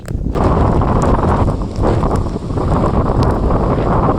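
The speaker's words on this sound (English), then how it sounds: "Bit blowy, isn't it? Bit blowy, I said! This is what it's like cycling today." Strong gusting wind roars across the microphone while cycling outdoors on a wet, blowy day in Scotland, a loud, constant low rumble that fills the whole stretch, with no talk.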